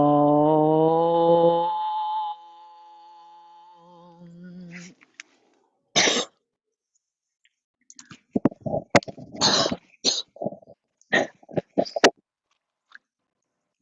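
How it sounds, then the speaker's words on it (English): A sustained chanted Om breaks off, followed by a burst of coughs and throat clearing, then scattered sharp coughs and bumps amid silence. "Great resounding coughing Om."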